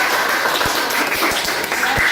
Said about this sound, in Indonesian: Tepuk tangan lagi untuk kelompok 2.